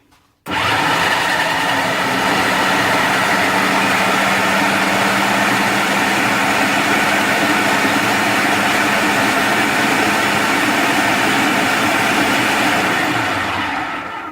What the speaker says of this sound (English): And we're going to blend everything together.